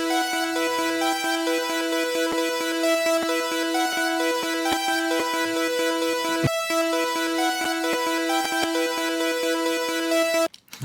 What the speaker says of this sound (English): So here is our synth sound.